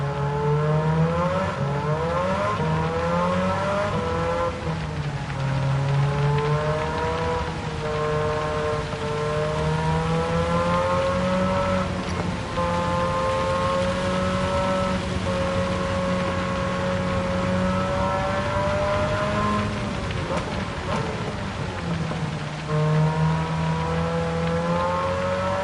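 A high-pitched rotary engine in a Mazda MX-5 in Gran Turismo 7 revs and holds steady, rising and falling in pitch with throttle changes, droning continuously and loudly throughout.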